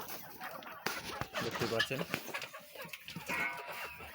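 Recovered chickens cluck and call close by while feeding on chopped cabbage leaves, irregular bursts of clucking mixed with a brief spoken comment.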